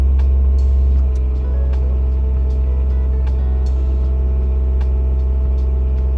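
Motor drive spinning on a test rig, a steady loud low hum with harmonic tones running continuously throughout, no talk.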